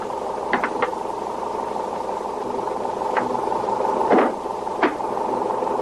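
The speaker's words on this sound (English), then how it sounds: "Oh, the motor's still running." A diesel truck's motor idles in a steady low hum, with a few sharp clicks and knocks rising over it.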